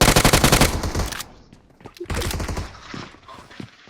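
Rapid automatic gunfire in a shooting game rattles loud and close in a sustained burst, pauses, then resumes in a second volley with scattered shots trailing off.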